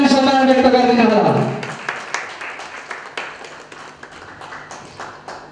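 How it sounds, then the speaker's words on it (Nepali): An audience claps for the chief guest and chairperson at a social service and cultural programme, a dense burst of applause that fades after about a second and a half into scattered claps under a voice. "आजको प्रमुख अतिथिज्यू र कार्यक्रमका अध्यक्षज्यूको आज जोरदार ताली सम्मान व्यक्त गर्दिनु होला"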